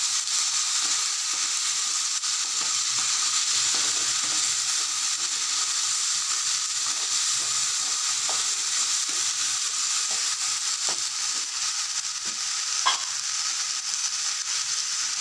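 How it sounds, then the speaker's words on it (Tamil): Grated coconut and onion fry with turmeric in a pan for a ladyfinger and horse gram gravy, a steady close hiss and sizzle running throughout, broken by scattered light stirring clicks. No one speaks. "தென்னங்காய் சேர்த்து வெங்காய சேர்த்து நல்லா கலக்கிட்டுக்கலாம்."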